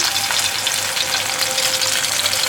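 Prawn and lentil chops frying in hot oil, a dense, even, loud sizzle that holds steady throughout with no talking.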